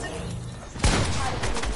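Video game gunfire rings out as a loud sharp burst partway through, over a constant bed of in-game ambience and noise, followed by a few fainter shots.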